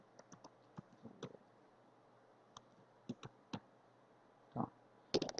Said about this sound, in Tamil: அடுத்து வந்து இதில் சிட்டி டைப் பண்ணுறேன்